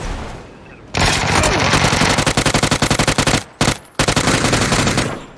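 PUBG gunfire bursts out loud and close: a sustained automatic volley followed by rapid individual shots and brief pauses, then another burst, with no talking over it.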